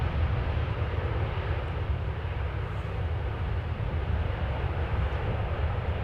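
A Suparna Boeing 747-400 airliner at Amsterdam Schiphol Airport, a steady broadband jet engine roar, continuous and even in loudness, heard at a distance with no talking.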